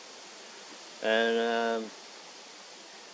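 Steady broadband rush of the Turon River flowing through bushland near Sofala, continuous and even, with a man's single spoken word and a short hum rising briefly over it.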